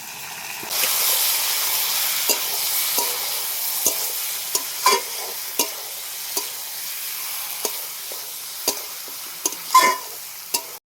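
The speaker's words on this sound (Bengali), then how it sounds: "মাংস মশলা মাখিয়ে রেখেছিলাম এখন মাংসটা দিয়ে ভালো করে কষিয়ে নেব" Marinated meat sizzles in hot spiced oil with bay leaf and garam masala, a steady broadband hiss broken by repeated sharp scrapes of a spatula stirring the pan, close and clear with no talk.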